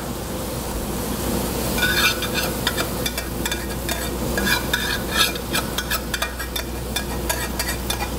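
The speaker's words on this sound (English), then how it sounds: "Then I'm going to add in my reduced coconut milk." Reduced coconut milk stirred in a hot pan, a steady sizzle with repeated scraping strokes of the spoon against the pan, close and continuous.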